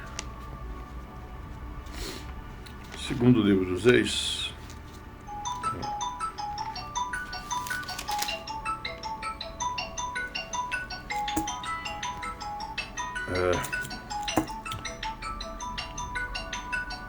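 A mobile phone ringtone plays a looping electronic melody in the background during a church sermon, moderately loud and continuous after a brief voice near the start.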